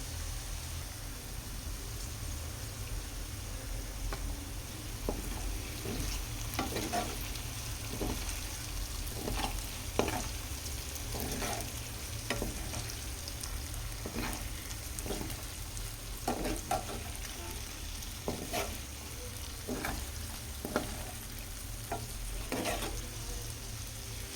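Cut okra frying in oil with turmeric, a soft steady sizzle with a low rumbling hum underneath and sparse scraping stirs at irregular intervals, no voices.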